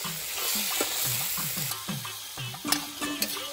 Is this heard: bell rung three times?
no